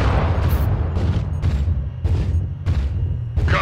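Incoming missile strikes in a video game air battle: a series of about six sharp, loud explosive blasts at roughly half-second gaps, each leaving a low rumbling tail, with no talk over them.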